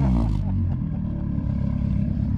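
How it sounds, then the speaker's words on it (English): A car with a catless aftermarket exhaust is revved, a deep throaty engine roar swelling then settling into a rough idle, with a voice briefly over it at the start. "and rev her up a little bit, Zach."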